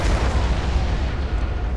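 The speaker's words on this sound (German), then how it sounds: "Nova-Kanone." A nova cannon fires in the space strategy game Battlefleet Gothic: Armada 2, a dense, rumbling, thunderous blast that rolls on without break for the whole moment.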